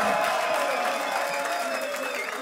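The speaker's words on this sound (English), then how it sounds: "Make some noise for Ssynic!" Crowd applause and cheering at a rap battle between Ssynic and Dizaster, a dense, steady roar of clapping and shouts that stays loud throughout and tapers only slightly at the end.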